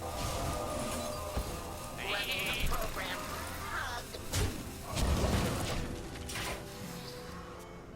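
In the Hearthstone card game, a Polymorph spell sounds as a minion turns into a sheep, giving a bleat amid layered game effects, thumps and a shattering crash over steady background music.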